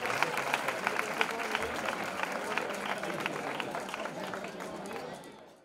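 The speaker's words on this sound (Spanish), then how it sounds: "Un fuerte aplauso para ellas" Dense applause from a crowd at a town fair opening speech in Casarabonela, Spain, many hands clapping steadily under murmured voices, fading out at the end.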